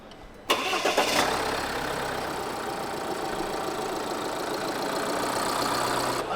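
A 2023 Tata Harrier facelift's diesel engine cranks and starts, heard from inside the cabin, then settles into a steady, muted idle hum that continues evenly.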